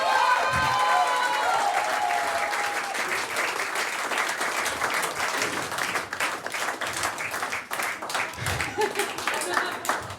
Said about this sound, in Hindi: मच, ताली बजाइए।